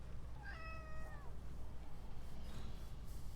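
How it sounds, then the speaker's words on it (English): A pet cat lets out a single clear meow, close and fairly loud, followed by a fainter short meow over a steady low room hum, with no talking. "That's a very good cat."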